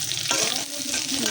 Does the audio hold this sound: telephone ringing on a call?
no